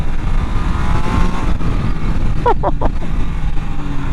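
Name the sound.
Triumph Tiger Sport 800 motorcycle engine revving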